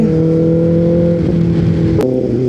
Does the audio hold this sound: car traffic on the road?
yes